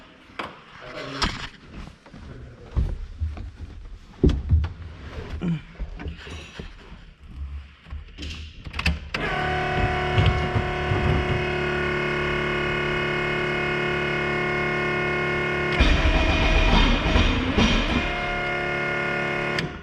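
Clanks and rattles of handling, then an engine catches and settles into a steady, humming idle, revving up briefly near the end.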